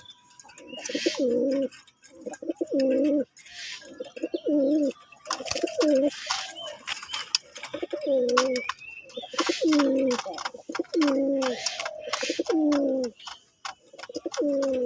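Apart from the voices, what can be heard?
male sky-blue pigeon cooing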